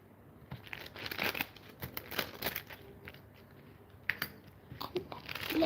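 Polymer clay being cut into small pieces, producing close, soft irregular crinkly crunches and taps in short clusters, fairly quiet with a faint room background.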